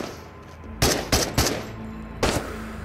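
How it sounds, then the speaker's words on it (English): Gunfire in Into The Radius, a VR shooter, rings out as four sharp, loud shots, three in quick succession and a final one after a short pause, over quiet background ambience. "I'm shooting unarmored enemies."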